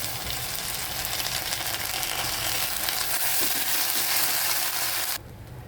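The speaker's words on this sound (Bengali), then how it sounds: "এই পর্যায়ে আমি আদা রসুন বাটা দিয়ে দেব" Ginger garlic paste frying in hot oil in a pan, a dense, loud, continuous sizzle and crackle that runs steadily for several seconds before abruptly dropping away.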